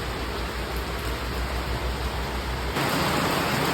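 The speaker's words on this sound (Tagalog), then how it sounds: "medyo maingay ngayon guys kasi nabot na tayo ng ulan" Steady heavy rain pours down close by as a Yamaha NMAX V2 scooter gets its ball race bearings replaced, a dense even hiss with no voices that swells slightly louder near the end.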